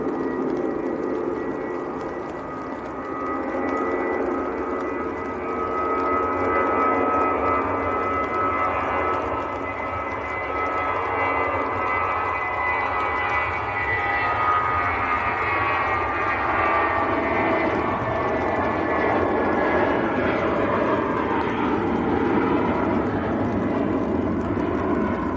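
British Airways airliner flying past near Manchester Airport, a loud sustained jet roar with a slowly shifting whine as it passes close, continuous and without talk.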